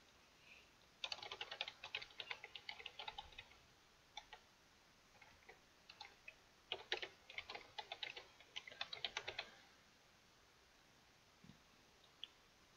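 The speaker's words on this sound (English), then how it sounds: "I'm going to go back here and type that in." Someone types on a computer keyboard in two quiet bursts of rapid clicking, with short pauses between and a few stray taps near the end.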